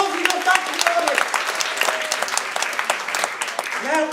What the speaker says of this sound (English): Give him a round of applause and go back to the audience